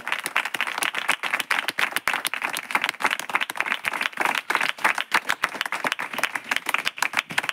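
A congregation at a Christian revival prayer meeting claps loudly and steadily, a fast, even beat of sharp claps running through the whole stretch without pause.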